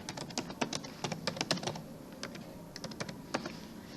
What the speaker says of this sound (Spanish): vamos a escribir la contraseña